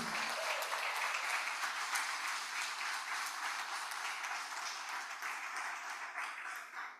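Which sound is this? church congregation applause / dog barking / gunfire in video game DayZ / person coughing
church congregation applause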